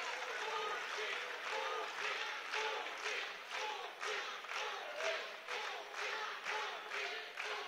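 A crowd in a futsal hall claps steadily in rhythmic bursts at a match, the applause fairly distant and rising and falling over several seconds.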